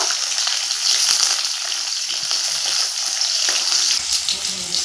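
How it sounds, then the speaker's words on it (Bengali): Chopped onions fry in hot oil with whole cumin, bay leaf and whole spices, a loud, dense, continuous sizzle crackling evenly close up, with no one speaking. "দিয়ে দেবো পেঁয়াজ কুচি একটু লাল করে ভেজে নেব"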